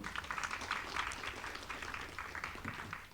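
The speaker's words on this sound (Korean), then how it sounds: "유익한 말씀해주신 조경훈 박사님께 다시 한번 뜨거운 박수 부탁드리겠습니다" An audience at a Gwacheon city public forum on urban development applauds a speaker, giving a steady wash of clapping from many hands in a hall for about three seconds.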